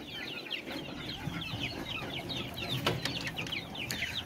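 Hens clucking steadily among a flock of about fifty growing chickens in a yard, with a busy, overlapping chorus of soft clucks and chirps at moderate distance.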